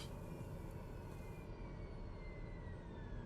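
The turboprop engine of a TBM930 in Microsoft Flight Simulator keeps up a steady, loud roar as its fuel is cut off, and its high whine slowly drops in pitch as it begins to wind down.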